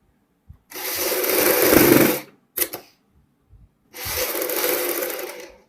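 Sewing machine running a one-foot-wide seam around the back neckline of a remade embroidered suit, with two long steady bursts of stitching broken by a short stop-start in between, close and fairly loud.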